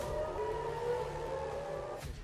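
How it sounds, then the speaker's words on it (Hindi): A civil defense air raid siren in Israel, warning of missile attack, wails with a sustained steady tone. It sounds distant and hollow across the open air, holding its pitch for a couple of seconds with no voices over it. "तो तुरंत ही इजराइल के आसमान में एक सायरन की आवाज सुनाई पड़ती है।"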